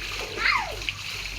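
Children splashing as they play in water, one brief clear splash under a steady background hiss, with a voice close by.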